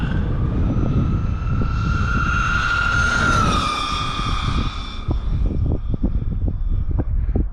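A stock XRT RC truck at full throttle on its speed gears, a loud, close, high-pitched motor whine that climbs steadily in pitch, peaks, then falls away into rattling drivetrain and tire noise.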